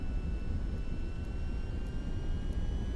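AV-42 aircraft in a video game throttling up and starting its takeoff roll, a steady low engine drone with faint whining tones held over it throughout.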